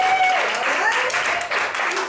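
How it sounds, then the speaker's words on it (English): A small audience at a D.C. venue claps and cheers in a round of applause to vote for a game, loud and close, with voices mixed in. "by a round of applause, do we want to see Ollie's game?"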